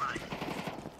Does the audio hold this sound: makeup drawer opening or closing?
no